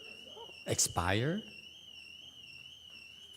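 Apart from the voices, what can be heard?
fire alarm going off in a temple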